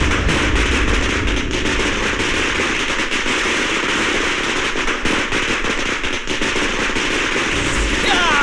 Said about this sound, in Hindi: पटाखा बाबू, मैं बात नहीं करता, मेरे पटाखे बात करते हैं।